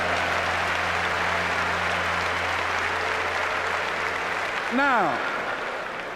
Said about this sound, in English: Give her a round of applause, all right?